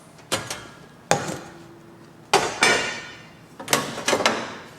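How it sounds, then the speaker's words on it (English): Metal grates are lifted off and set down on a Capital Culinarian range top, giving about five sharp metallic clanks and rattles spaced irregularly, close and clear, with no talk. "So we take the grates off."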